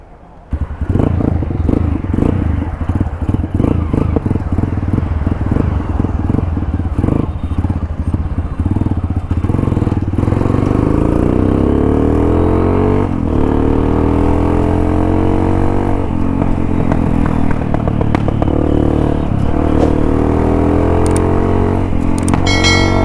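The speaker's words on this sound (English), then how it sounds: "So we'll take this for a spin and understand what this motorcycle can do." Modified race-spec Hero Impulse rally motorcycle being ridden, its single-cylinder engine starting up and revving through gears with rising and falling pitch, loud and close with wind buffeting and mechanical clatter throughout.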